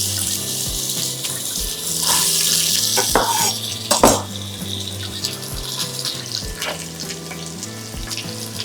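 Chopped onion sizzles in olive oil in a hot pan, a loud steady hiss broken by scattered clinks and knocks of cookware and utensils.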